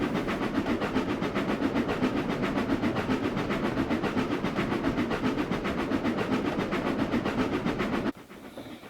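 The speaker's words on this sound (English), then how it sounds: "train number 255 as it crosses Hermitage Creek trestle on the Nelson and Fort Sheppard trackage" Train number 255 rolling across the Hermitage Creek trestle on the Nelson and Fort Sheppard line in the Trainz simulator, with a steady, loud rumble and rhythmic clickety-clack of wheels throughout, cutting off sharply near the end to quieter ambience.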